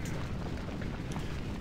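Cannon fire rumbles in the Civil War strategy game Ultimate General: Civil War, a continuous low booming roar with dense overlapping blasts at a moderate level.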